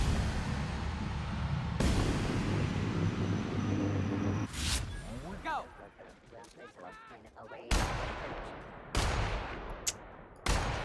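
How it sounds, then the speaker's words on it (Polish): Sniper rifle shots in The Outer Worlds boom out sharply one after another, about four loud cracks with rumbling echoes and quieter game noise in between, a voice talking now and then. "Patrzcie, 3 strzały pod rząd spudłowane."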